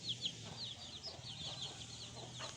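Faint clucking and peeping come from a hen with her chicks, with soft chick chirps scattered over a low background murmur.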